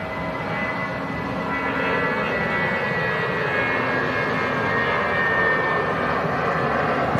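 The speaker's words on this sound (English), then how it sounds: "BA with a really early rotation, the empty flight, taking the plane back down to London Gatwick." A British Airways jet airliner with IAE engines takes off, a loud, continuous engine roar with a slightly high-pitched tone holding steady throughout, heard alone.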